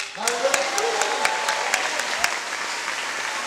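Applause from a church congregation, a dense steady wash of many hands clapping with sharp individual claps standing out, moderately loud and continuous throughout.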